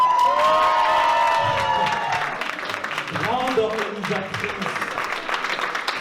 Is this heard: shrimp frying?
no